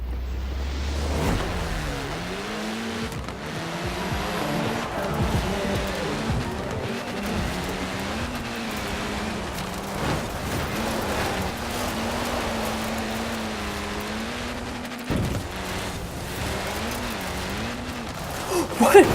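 Race cars in a Forza Horizon 4 race give a constant droning engine whine with rising and falling revs, brief whooshes and a few thumps, while someone talks throughout.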